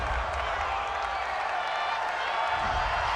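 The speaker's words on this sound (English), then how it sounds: "This home crowd, they're happy with that call" Home crowd in a Madden 20 Bears at Steelers simulation, a steady, dense roar of cheering and applause filling the stadium with no break.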